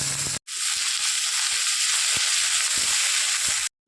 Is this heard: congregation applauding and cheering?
no